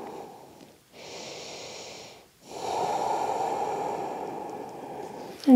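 Slow, deep yoga breaths during a gentle restorative session, a long airy inhale, a brief pause, then a longer, fuller exhale, close and steady with no talking.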